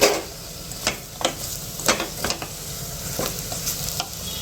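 Masala-stuffed bitter gourd curry is stirred in an oily pan, with crisp scraping strokes and a soft sizzle underneath, close and fairly loud.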